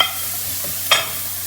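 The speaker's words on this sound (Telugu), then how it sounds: "సేమ్ బౌల్లోనే నేను ఆయిల్ వేసుకుని ఆనియన్స్ వేసుకుంటున్నానండి" Chopped onions sizzle in oil in a bowl while being stirred for a restaurant-style capsicum masala curry gravy: a steady soft frying hiss with one sharp scrape of a spoon partway through.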